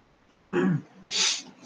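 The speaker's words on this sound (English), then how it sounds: "I'll just sneeze here" Two quick bursts close by: a sharp inhaled catch followed by a forceful sneeze, in an otherwise quiet room.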